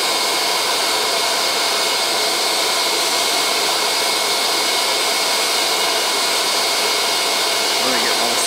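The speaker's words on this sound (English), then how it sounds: "I'm gonna get most of the bees, most of the workers. We'll get sucked into the vacuum." A vacuum runs with a steady, loud, close whine and roar while sucking yellow jacket hornets out of a nest, with no pauses.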